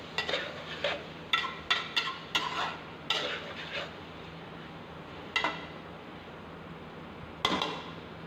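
Spoon stirring chicken aloo keema with three finely chopped peeled tomatoes in a pot, giving a series of short, distinct scraping clinks in irregular bursts over a faint steady sizzle, with quiet pauses between strokes.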